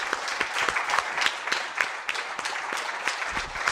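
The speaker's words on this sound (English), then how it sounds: "Let's give him an applause." Audience applause greets a speaker joining a getting-things-done event in Oslo, a steady crackle of many hands clapping throughout at moderate loudness with no voices.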